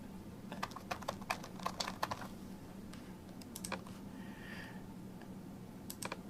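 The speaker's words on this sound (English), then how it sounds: "I can type them in" Quick bursts of keystrokes on a computer keyboard, close and fairly quiet, with irregular clicking rhythm and brief pauses between runs.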